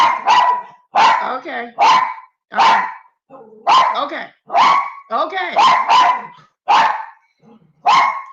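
Two dogs, Chocolate and Sandy, bark loudly and close in a run of sharp, repeated barks and yips, with short gaps between the bursts.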